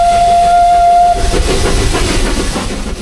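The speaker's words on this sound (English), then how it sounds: "for the first time we can actually hear and see the train" The whistle of La Trochita, a historic narrow-gauge steam train in Patagonia, Argentina, blows one loud, sustained note for about a second, then gives way to hissing steam and rumbling train noise.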